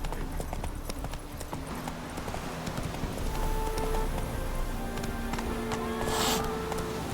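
Hooves of a horse named Roach clip-clop at a steady gait in The Witcher 3: Wild Hunt, moderately close, with faint game ambience and a brief bright hiss near the end.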